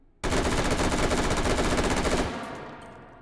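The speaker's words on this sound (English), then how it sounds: "I just have to shoot this gun, hold on." A gun in the VR game Hot Dogs, Horseshoes & Hand Grenades fires a continuous rapid automatic burst for about two seconds, loud and close, then cuts off into a fading tail.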